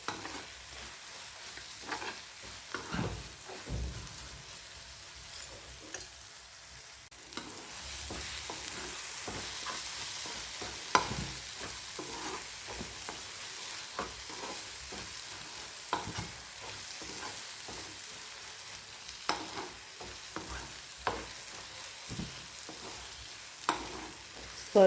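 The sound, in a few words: fish frying and sizzling in oil while stirred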